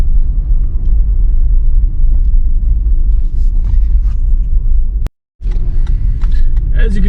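A 2021 Toyota 4Runner drives in four-wheel drive, its engine and tires making a loud, continuous low rumble that cuts out briefly and then returns with some rattling.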